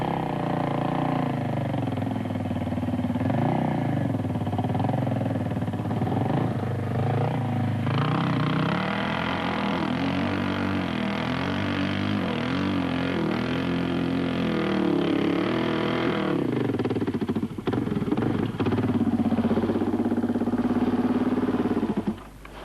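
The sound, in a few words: Suzuki DR 600 motorcycle engine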